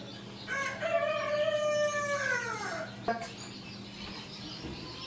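A rooster crows once nearby on a poultry farm of hatching hens, a long drawn-out call that trails off, followed by a sharp knock and quiet farmyard background.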